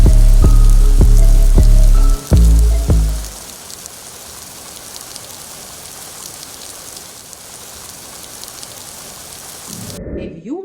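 Steady rain pours in a dense, even hiss, close and moderately loud; a few tonal musical notes ring out before it, and the downpour then continues alone for several seconds.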